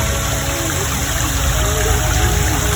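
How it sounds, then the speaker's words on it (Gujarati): Floodwater after heavy rain pours in from surrounding farm fields, a loud, continuous rushing and gushing of water close by, with a faint engine-like hum underneath and no talking. "મિત્રો આજે પાણી આવે છે બધાના ખેતરમાંથી આવે છે."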